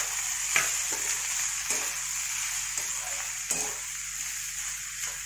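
Ingredients sizzle steadily in a frying pan while being stirred and mixed, with a constant hiss broken by several scraping stir strokes at irregular intervals. Close and moderately loud, with no voices.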